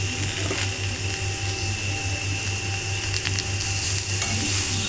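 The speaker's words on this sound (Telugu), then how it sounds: "ముందర తీసి పెట్టుకున్న కరివేపాకును కూడా వేసేద్దాం" Curry leaves dropped into hot oil for a tempering sizzle loudly and continuously, a dense crackling hiss with a low steady hum beneath it and no voices.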